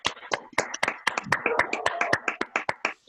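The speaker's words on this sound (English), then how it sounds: "Everyone can give a clap now." A small online event audience claps together in scattered, uneven bursts of close hand claps over a few seconds, sounding thin and individual rather than like a large crowd.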